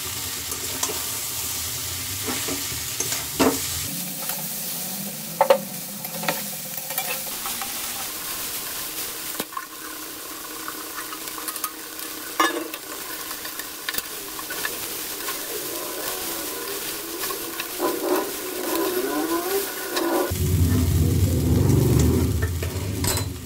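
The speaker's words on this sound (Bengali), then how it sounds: "এবার চাউমিনটা দিয়ে দিচ্ছি।" Chicken chow mein noodles being added to a pan and stir-fried; steady sizzling with intermittent stirring and scraping clacks, rising to a louder fry near the end, close and without talk.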